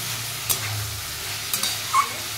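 Mixed vegetables slowly stir-fried in a pan, a soft steady sizzle with a few brief spatula scrapes and clicks against the pan.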